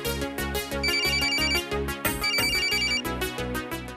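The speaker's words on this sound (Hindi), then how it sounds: "नंदू को फोन कर लेती हूँ" A loud electronic phone ringtone plays continuously, a bright repeating melodic trill over a steady pulsing beat, with no talking.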